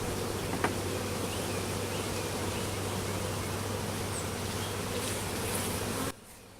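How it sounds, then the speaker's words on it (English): A swarm of honey bees hums as a dense, continuous buzz close to the microphone, steady and loud throughout, cutting off abruptly just before the end. "Let me take this camera off of here and show you what these bees are doing."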